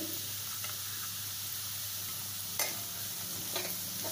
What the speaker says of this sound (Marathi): गरम झालंय, आता रवा घालते त्याच्यात।